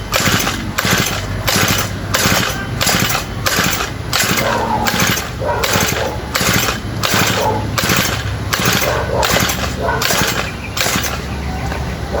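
Hard-starting lawn mower engine being cranked over and over: a steady run of loud, rhythmic pull-start bursts, about two per second, nearby and continuing for the whole stretch without settling into a smooth idle.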